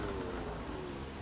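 Rain falling during a drive in The Crew Motorfest, a brief, dense, even patter of raindrops washing over the scene at moderate loudness with no voice.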